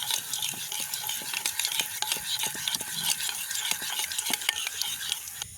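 Beaten egg mixed with fried onion and chili, stirred briskly in a bowl, giving a steady run of close wet scraping and clinking strokes with a faint sizzle behind, no voices.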